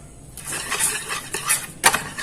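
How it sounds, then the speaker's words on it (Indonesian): Eggs and sugar being stirred in a bowl, spoon clinking and scraping against the sides in a series of close, light strokes with a sharper knock near the end; no talking. "Aduk telur dan gula."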